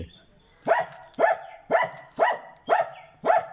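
A single dog barks six times in an even, steady rhythm, each bark sharp and close with a short whine-like tail.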